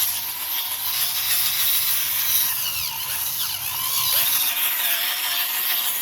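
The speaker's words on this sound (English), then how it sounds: "I'm gonna take my trusty auger" A hand auger churns and loosens soil in a grow bag in a garden, a steady close scraping and grinding rasp that rises and falls slightly as it turns, heard alone without talk.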